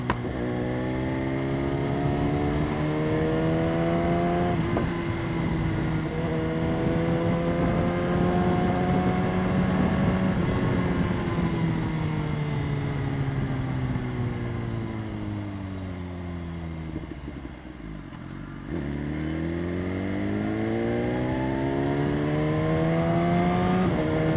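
A BMW S1000RR sport motorcycle on the road, its engine droning loudly and steadily through the gears, rising in pitch between shifts, with wind noise and no talk.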